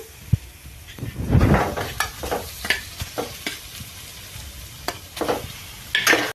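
Egg fry for egg biryani, seasoned with chilli powder, is stirred in a sizzling pan: a close crackle of frying, broken by repeated scrapes and clinks of the spoon against the metal.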